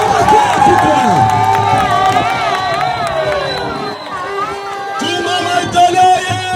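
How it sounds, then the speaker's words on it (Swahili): A crowd at a political campaign launch in Uvira, Congo, cheering and shouting loudly with voices and whistles over scattered clapping. "Wanapiga makofi kwa Juma Michael Gladys"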